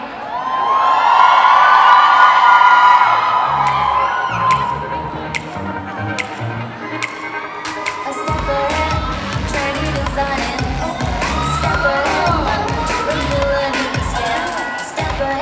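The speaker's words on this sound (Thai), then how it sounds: "รอบที่สองส่งเสียงเชียร์ดังกว่าเดิมได้ไหมครับ" A large crowd at a live OPPO A3 Series promotional event roars with cheering and high-pitched screams, swelling loud at first then continuing in waves of shouting and whoops.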